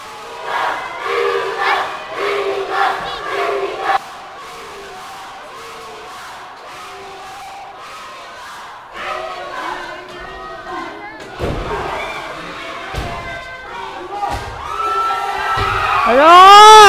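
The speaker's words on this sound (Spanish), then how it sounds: "Y el grito de técnicos, técnicos que imperan en el gimnasio." Crowd in a gymnasium at a lucha libre wrestling show chants and shouts in rhythmic bursts, loud and echoing, with thuds from the ring and a voice talking over the noise.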